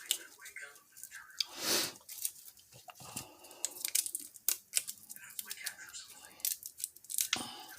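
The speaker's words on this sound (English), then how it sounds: "Just put your knife on top of it, give it a bash, and they come right out of the peel." Garlic cloves being peeled by hand after being crushed under a flat knife blade, with crackly papery rustling and tearing of skins in irregular close bursts.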